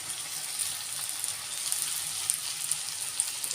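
Onions frying in a pan with garlic and ginger just added, giving a soft, steady crackling sizzle with faint scattered pops throughout.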